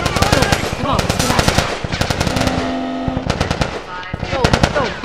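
Rapid automatic gunfire from The Last of Us Remastered on PS4, loud and close, with bursts of shots in quick runs, brief pauses between volleys, and shouting voices mixed in.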